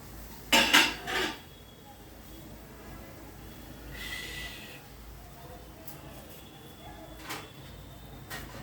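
A metal lid is set onto a cooking pot while making an old-style oil-free roasted tomato chutney, giving two sharp clanks close together near the start, followed by faint clinks later over quiet kitchen background.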